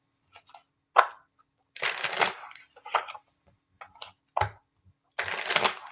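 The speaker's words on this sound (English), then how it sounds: "I'll shuffle some cards for you though." A deck of tarot cards shuffled during a psychic reading, heard as several separate bursts of crisp riffling and slapping, close and moderately loud, with short quiet gaps between them.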